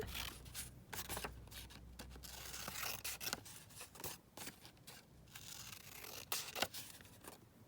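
Scissors snip through a laminated pouch at close range, a series of short crisp cuts and rustles with brief pauses, no voices.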